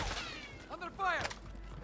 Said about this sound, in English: I was getting shot at from top.